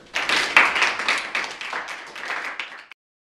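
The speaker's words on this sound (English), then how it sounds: "Clapping is in order." A small group at a Model United Nations session claps together for a few seconds after a resolution passes, a steady patter of hands that builds quickly and stops abruptly.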